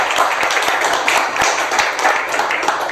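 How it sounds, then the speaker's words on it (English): A small audience at a learning-circle event on the metaverse and immersive experiences claps for the organizers, with distinct individual claps audible in a brisk, uneven patter close by and no talking. "please, a round of applause for them"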